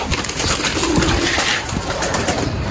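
Soft pigeon cooing repeats against a busy, noisy background, fairly close, with no talking.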